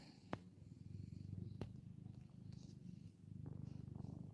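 A cat purrs softly and close by in a steady rhythmic rumble, each breath cycle audible, with a couple of faint clicks and brief pauses between purr bouts.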